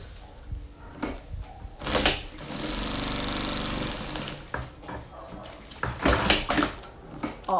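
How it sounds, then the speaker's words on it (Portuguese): A sewing machine runs a side seam along a fabric mask holder, a steady mechanical whir holding for about two seconds in the middle with shorter bursts before and after, close and fairly loud, with no talking. "vou passar uma costura na lateral, ó, fechando"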